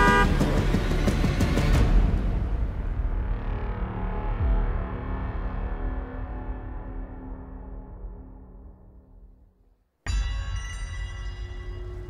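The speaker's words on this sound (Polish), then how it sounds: "Oprzytomniał na środku skrzyżowania, wśród ryku klaksonów." Car horns blare in a dense, distorted burst at a busy intersection, then the din trails off with echo and fades to near silence before a loud new sound cuts in at the end.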